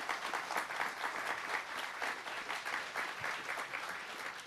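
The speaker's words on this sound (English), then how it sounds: "Let's give him a big round of applause for being here." An audience gives a speaker a warm round of applause at a university talk, a steady dense clapping that holds at an even level throughout.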